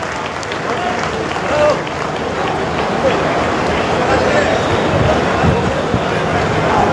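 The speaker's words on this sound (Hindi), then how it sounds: "आप भी अपने आप को शामिल कर सकते हैं जोरदार तालियों के माध्यम से।" A crowd applauds at a welcome ceremony in Nandgarh village, at an event attended by two chief ministers, including Delhi's Rekha Gupta. The clapping is dense and steady for about seven seconds, mixed with crowd noise and voices.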